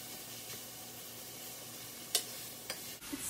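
Taco filling sizzling steadily in a hot pan, frying close up, with a few sharp scraping knocks near the end as a spoon crushes it down.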